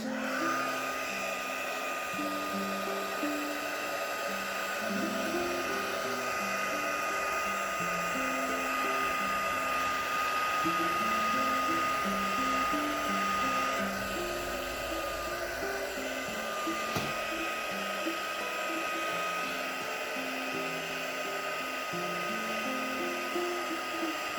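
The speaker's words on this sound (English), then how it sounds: "What we might do is get the heat gun on it in a minute. I'll just dry that a bit faster." A heat gun dries a soft pastel flower painting with a steady, continuous whirring blow that holds at an even moderate level for over twenty seconds, with no talking.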